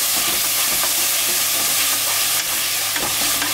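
Onion and green chili paste sautés in a hot pan for a jackfruit biryani, giving a dense, steady, close sizzle and hiss with no one speaking.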